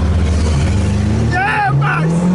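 Turbocharged car engine running close up, with a steady loud drone and a rising, wavering turbo whistle partway through, while people talk over it.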